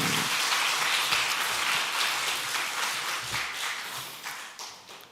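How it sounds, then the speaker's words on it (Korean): A church congregation at a Sunday afternoon service gives encouraging applause after a healing prayer, a full, even roar of many hands clapping that slowly fades toward the end, with no voices over it. "격려 박수 한번 해주시기 바랍니다"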